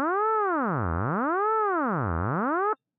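An Ableton Operator synthesizer plays a sustained harmonic tone whose pitch sweeps smoothly up and down in a slow, even wobble from a sine-wave LFO, about two full cycles, loud and alone before cutting off abruptly.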